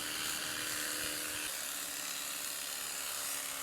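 Electric clippers shearing wool from a sheep on a farm pasture, a steady close mechanical buzz with a faint whine that holds throughout.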